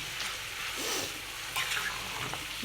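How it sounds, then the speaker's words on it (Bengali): Broiler chicken pieces lightly frying in oil give a steady, soft sizzle with faint stirring, heard alone without any talk. "মাংসগুলো অল্প ভেজে নিচ্ছি, কারণ ব্রয়লার মুরগি, তাই একটু তেলে ভাজা করে তারপর নামিয়ে রাখবো"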